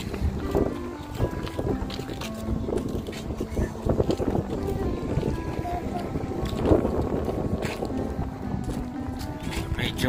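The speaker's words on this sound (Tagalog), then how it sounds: "Medyo mahangin." Wind buffets the microphone outdoors in gusty rumbling bursts, with people talking under it and the sound of a boat on water.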